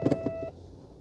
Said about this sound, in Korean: 경보기가 삐 거리긴 했는데